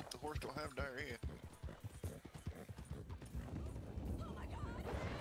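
Horse hooves clip-clop in a rhythmic run in the Western video game Red Dead Redemption, heard under and between a man's speech, with steady hoofbeats continuing to the end.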